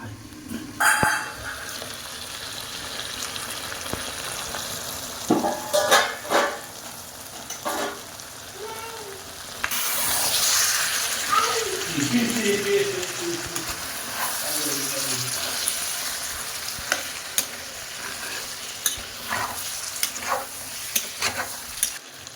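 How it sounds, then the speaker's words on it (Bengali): Mutton curry with potatoes sizzles and frying-hiss steadily in a pan while being sautéed village style, with stirring scrapes and occasional clinks throughout, close and moderately loud. "আবার ঢাকনা চাপা দিয়ে ভালোভাবে কষিয়ে নেব।"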